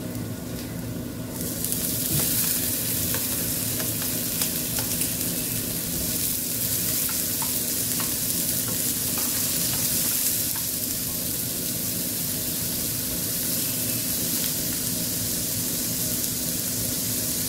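Onion and tomatoes frying together in a pan for masala pav, a dense, loud, continuous sizzle that rises as the tomatoes go in and holds steady close by, with no one speaking.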